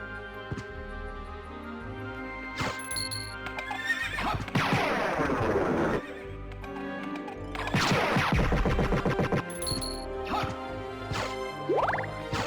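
Horse neighs and clip-clopping hooves in Castlevania: Symphony of the Night, sounding over game music and clashing hits, with two loud whinnying bursts in the middle.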